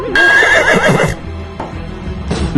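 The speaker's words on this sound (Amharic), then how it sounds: "ፈረስ" A horse in a sitcom scene gives a loud, close, wavering whinny for about a second, followed by quieter snorting and shuffling.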